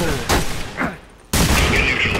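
Shotgun blasts go off in the shooter game Half-Life 2: The Hidden, two sharp loud bursts separated by a short quiet gap, the second followed by a lingering noisy tail.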